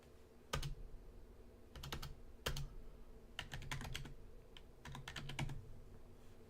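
Fingers type on a computer keyboard, quiet and close, with short clusters of crisp key taps separated by brief pauses and no talk.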